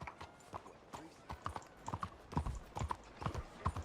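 Horse hooves clip-clop steadily while pulling a cart in Red Dead Redemption 2, a rhythmic run of close, moderately loud hoofbeats with a faint whinny-like tone mixed in.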